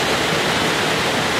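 A river flows directly in front of an outdoor open-air hot spring bath at a retro inn in Shiobara, Nasu, Japan, making a steady, close, full rushing sound with no break.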